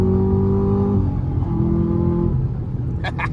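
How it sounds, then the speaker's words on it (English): Chevrolet Camaro ZL1 accelerating hard, its engine note dropping as it shifts gears, loud and close with a constant road rumble beneath. "Throwing those gears, man."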